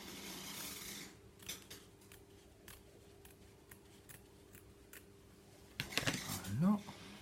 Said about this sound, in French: Donc là, hop, je me lance, je coupe.